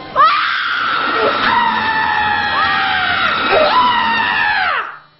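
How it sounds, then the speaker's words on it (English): A woman lets out a long, loud, piercing, comedically over-the-top scream that wavers in pitch, held for about five seconds before cutting off abruptly. "And now for comedically over-the-top scream in 3,"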